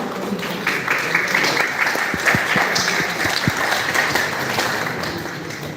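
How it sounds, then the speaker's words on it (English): An audience at a meeting breaks into sustained applause, a dense, loud wash of clapping that fills the room throughout, with some voices mixed in beneath it. "Please give a big round of applause."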